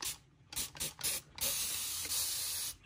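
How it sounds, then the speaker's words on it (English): Several short hissing bursts from a spray bottle misting a regal jumping spider's enclosure, followed by a longer sustained spray, close and fairly loud with no talking. "do a little spray"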